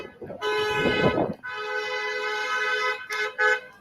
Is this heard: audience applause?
no